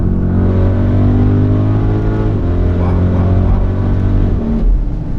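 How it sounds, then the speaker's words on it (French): A 2020 Audi RS Q8 engine accelerates hard and revs continuously toward 7000 rpm, a loud, steady, deep drone heard from inside the cabin with rising harmonics and a gear change near the end. "Là, ça y est, le moteur est lancé."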